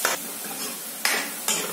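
Onions fry in a pan for matar paneer, stirred until lightly browned: a close, steady sizzle broken by three bursts of scraping spatula strokes, the first at the very start, with no voices.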